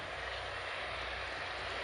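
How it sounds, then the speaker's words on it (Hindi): A tractor engine runs near a rural house under construction in the evening, giving a steady, unbroken mechanical drone with a low rumbling hum, moderately distant and alone without any voices. "ट्रैक्टर।"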